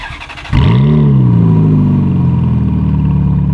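A Ferrari F430 fitted with a Novatec exhaust starts up with a sharp bark, rises into a loud rev, then settles into a deep, throaty idle close by.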